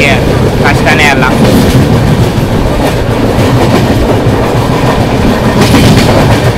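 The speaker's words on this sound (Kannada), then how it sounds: "ನಮ್ಮ ಪವರ್ಫುಲ್ ವ್ಯಾಪ್ 7ಗೆ ಆಕ್ಸಿಲರೇಟ್ ಮಾಡೋಕ್ಕೆ ಕಷ್ಟನೇ ಅಲ್ಲ" An AC double-decker superfast express hauled by a WAP-7 electric locomotive runs at speed, with a loud, steady rumble and rhythmic clickety-clack of wheels over rail joints heard from on board.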